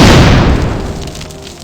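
A single loud, deep boom from an explosion in a survival horror video game erupts at once and rumbles away over about a second and a half.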